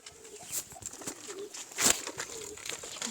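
Pigeons flutter and coo nearby in short, faint bursts of wingbeats and soft calls, with quiet gaps between them.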